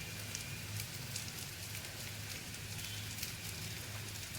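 Eggs and potatoes for a Bengali egg curry fry in hot oil, giving a dense, steady sizzle and crackle that holds evenly throughout with no talking.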